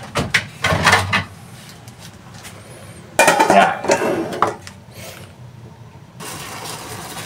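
Metal pot lid clattering onto a cooking pot of chicken caldereta, a few loud close clanks and scrapes followed by a steady simmering hiss.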